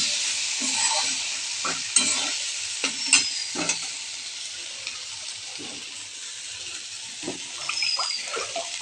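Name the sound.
potatoes and spices frying in a pan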